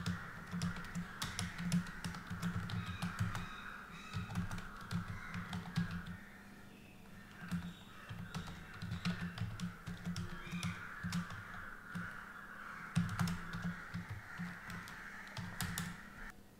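Rapid clattering keystrokes on a computer keyboard come in close, busy bursts with brief pauses, heard on their own without speech.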